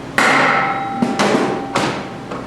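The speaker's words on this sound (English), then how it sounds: "So now we have to tap the secondary shaft onto the gear with a rubber hammer." A rubber hammer taps a snowmobile clutch's secondary shaft onto its gear on a Ski-Doo 800 XP, three loud, close, sharp blows spaced about half a second apart with ringing decay.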